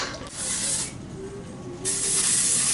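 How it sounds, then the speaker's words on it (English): Short hissing bursts of dry shampoo from an aerosol can, close and fairly loud, with a first spray, a quieter pause, then a second longer spray to the end. "She just wants to spray a little bit and leave it here."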